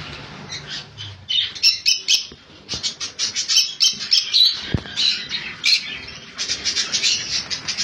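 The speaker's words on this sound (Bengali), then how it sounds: "ইয়েলো সাইড কনুর যে পাখিটা ভাই দেখতে পাচ্ছ, এটা ইয়েলো সাইড কনুর" Yellow-sided conure parrots squawk loudly and repeatedly in harsh, overlapping bursts, close by, with brief pauses and no talking.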